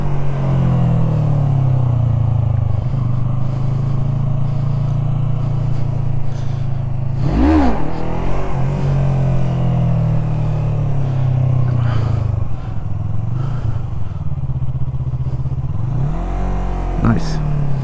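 Yamaha MT03 motorcycle engine running steadily up close, then revving sharply once mid-ride during wheelie practice, with a further rise near the end, under a constant low rumble and wind.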